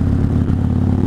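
Idling 2013 Harley Davidson Fat Bob motorcycle engine and exhaust, a loud, close, deep rumbling burble with rapid even pulses, heard alone for a brief moment.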